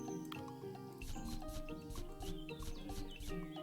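Chickens cluck in the farming-simulation game Equilinox, short repeated clucks and squawks popping over a steady layer of tonal background music, fairly quiet overall.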